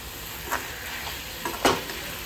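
Onion, tomato and green chillies frying in a pan for a paneer curry: a steady soft sizzle with a few brief scraping stirs, close and quiet, no voices.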